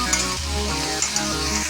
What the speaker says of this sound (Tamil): இதில் வந்து தண்ணி எதுவும் சேர்க்கக்கூடாது, எண்ணெயிலே தான் ஃப்ரை பண்ணணும்